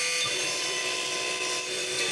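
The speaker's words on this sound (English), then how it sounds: "I'm cutting a little bit outside the line because I can always sand it down smooth" A power saw cuts a wooden board clamped down for making wood inlay strips, giving a steady, loud, continuous whine and rasp that holds without a break through the whole stretch, with no talking.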